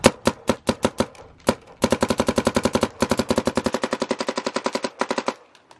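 Rapid bursts of gunfire from a GEO 3.5 gun during a kick test, a few spaced shots followed by long fast strings of loud, evenly rhythmic reports, then sudden silence.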